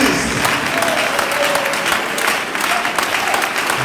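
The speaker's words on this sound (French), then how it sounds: "Acclamez le Seigneur Jésus-Christ." Church congregation applauding during worship, a dense, steady burst of clapping from many hands filling the space, close and loud throughout.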